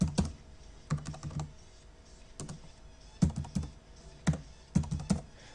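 Quiet bursts of typing on a computer keyboard, clusters of crisp key clicks separated by brief pauses, close and alone with no voices.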